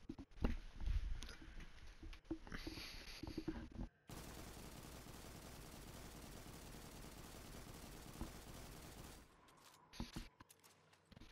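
Gunfire from the Destiny 2 Kingsfall raid against Golgoroth: loud bursts of shots at first, then a long, dense, even stretch of continuous rapid fire that breaks off into scattered shots.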